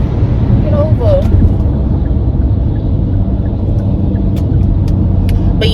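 Traffic rumbles on an Atlanta road as a truck passes nearby, a loud, steady engine drone running throughout with a few faint higher clicks near the end.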